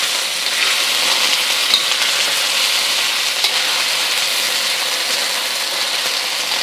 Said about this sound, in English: Got to sear the other side.